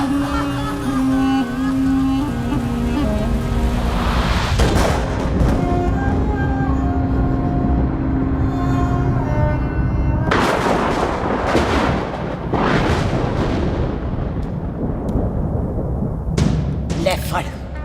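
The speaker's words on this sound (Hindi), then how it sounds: "मार दी सारी गोलियां उसकी छाती" Several loud, sharp gunshot bursts crack out over a dense, dramatic background score, with voices speaking at points.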